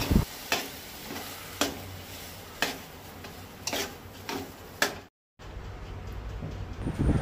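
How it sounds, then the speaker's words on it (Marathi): Boiled chickpeas stirred in a pan for a Goan Diwali ustal, a spoon knocking the pan in regular sharp taps about once a second over a low sizzle, with a brief dropout near the end. "आता ते बरे धवळून घेवपाक जाय।"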